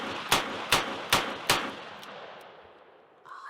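.357 Magnum revolver firing four evenly spaced sharp shots, each crack ringing out with a decaying tail, followed by fading echo and a faint metallic tone at the end.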